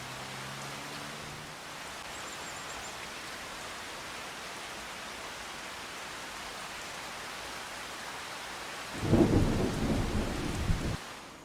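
A rain shower with rolling thunder in the video game Farming Simulator 25, steady hiss of rain throughout and a louder thunder rumble swelling near the end.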